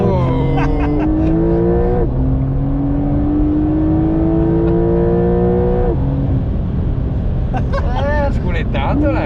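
A Porsche 911 Carrera 4 (992) engine drones loudly while driving, its pitch rising through the gears with clear shifts, under continuous conversation in Italian.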